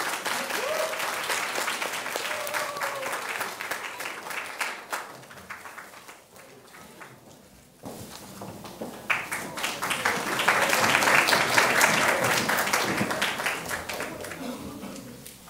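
A seated audience at a university presentation competition's closing ceremony claps for an award-winning team, the applause dipping, then swelling louder in the second half, with a speaker's voice over it early on.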